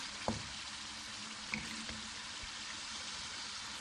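Chickpeas tipped into a frying pan of softened potatoes for a Rajasthani chole aloo dish, giving a steady, quiet sizzle with a couple of small clinks near the start and middle.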